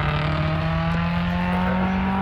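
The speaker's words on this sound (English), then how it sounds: "Mel Kaysen gets underway in Alfa Romeo GDB 2000" An Alfa Romeo GTV 2000 race car pulling away from the start line at a sprint event, its engine droning steadily and loud, with no voices.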